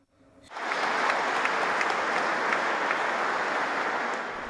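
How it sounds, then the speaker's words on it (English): Applause breaks out after an Archbishop's sermon, a large congregation clapping steadily and fairly loud after a brief quiet start, then slowly tapering. "there was applause afterwards today, which was most unusual"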